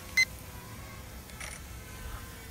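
A budget SHRC Locke toy camera drone gives a short, sharp electronic beep as it snaps a picture, followed by a faint second chirp over a steady background hiss.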